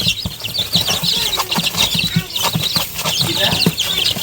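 Chicks of fancy chickens cheep continuously with shrill, overlapping peeps in a pen, joined by some low murmured talk.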